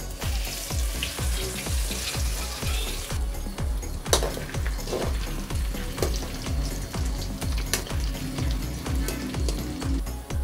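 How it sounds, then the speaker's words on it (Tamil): Crushed whole garlic cloves fry in sesame oil with mustard seeds and urad dal, a constant close sizzle broken by a steady, regular rhythm of stirring knocks against the pan. "பூண்டு நல்லா ப்ரௌனாக பொடி பொரிஞ்சு வர அளவுக்கு நல்லா வறுத்துக்கோங்க."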